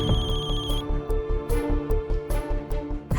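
A telephone rings indoors in a household scene, a loud, bright electronic ring repeating in quick pulses, with no talking over it.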